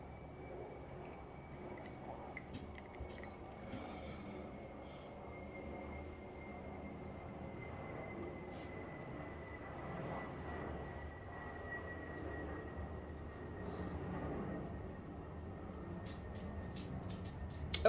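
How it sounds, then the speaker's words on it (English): An airplane passes overhead outdoors, heard as a low, faint, drawn-out rumble that holds steady for the whole stretch, with small clicks and drips scattered over it and no talking. "Sorry, there's a plane, so let me take the opportunity."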